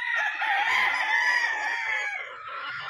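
On a gamefowl farm, a rooster gives one long, loud crow close by, with chickens clucking around it and no talking.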